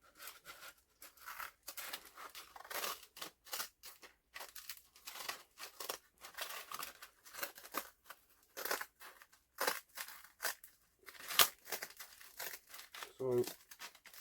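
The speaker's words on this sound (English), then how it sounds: "scissors on the go" Scissors cut through stacked sandpaper sheets for a homemade drill flap sander, giving repeated crisp rasping snips and crinkles in an uneven rhythm, close and fairly loud.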